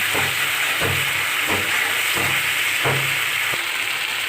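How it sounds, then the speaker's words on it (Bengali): A steady, loud hiss of spices frying in a pan, with low scraping thumps recurring about every second as the mixture is stirred. "মশলাটা ভাজা ভাজা হয়ে এসেছে"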